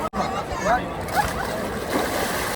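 People bathing in the cold water of the Ganga at Haridwar make close, continuous splashing and sloshing, with voices talking over the water noise.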